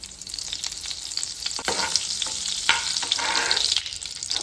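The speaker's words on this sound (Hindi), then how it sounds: "तेल के साथ इसमें मैं डालूंगी बटर, इतना सा जो है ना मैंने बटर ले लिया है। इसको अभी मेल्ट होने के लिए रख देते हैं।" Butter melting in hot oil in a pan gives a steady, fairly loud frying hiss with a few sharper crackles and spatters, heard alone without any voices.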